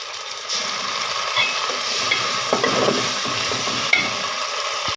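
Garlic paste fries in oil in a pan for a meat curry, giving a steady close sizzle broken by stirring scrapes and small pops.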